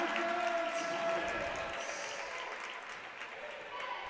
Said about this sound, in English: Draws a big reaction from the crowd on that one